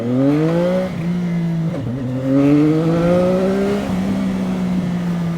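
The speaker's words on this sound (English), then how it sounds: "I'll try to accelerate from 0 to, I don't know, 50, 60 kilometers per hour" A 675NK motorcycle accelerates hard from a standstill, its engine note climbing steadily through gears with brief dips at each shift, loud and close with no talking.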